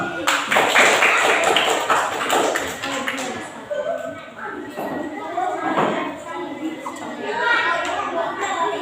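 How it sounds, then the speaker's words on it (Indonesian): A classroom of students claps for a group, a burst of sharp claps at the start that soon gives way to chatter and voices, with scattered taps and knocks through the room. "Tepuk tangan dulu untuk kelompok 1."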